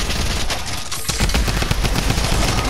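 Rapid automatic fire from a drum gun in Fortnite, a dense, loud stream of repeated shots that runs almost without a break.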